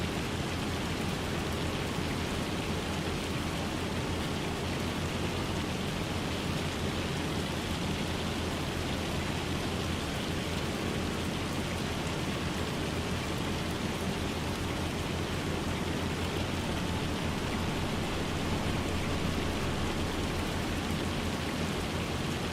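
Rain and hail fall in Farming Simulator 25 as a steady, dense wash of noise that runs unbroken and even throughout, with no voices.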